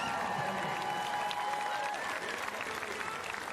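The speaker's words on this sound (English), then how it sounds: "Polite round of applause as the players make their way back out" Polite applause from a volleyball crowd at the 2019 women's Olympic qualifying match between the USA and Bulgaria, a steady sustained wash of clapping with crowd murmur and faint whistle-like tones throughout.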